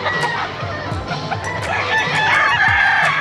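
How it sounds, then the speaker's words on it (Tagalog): Many chickens and roosters at a Bocaue pet market, crowing and clucking together in a dense, busy chorus, with several distinct cock-a-doodle-doo calls rising over continuous nearby fowl noise and no speech. "Ang daming manok dito."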